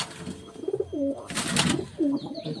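Pigeons in a loft coo close by, a few soft throaty rolling calls in quick succession with faint rustling between.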